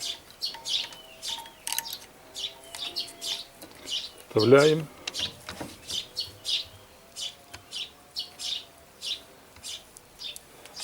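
Small birds chirp and tweet continuously in the background while a chainsaw chain is repaired, someone speaks briefly and a metallic squeak or scrape sounds midway.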